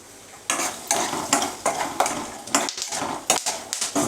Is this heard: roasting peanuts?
yes